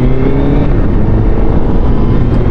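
A Suzuki Hayabusa motorcycle engine roars loudly during a ride, a steady close droning growl with wind rush and no break.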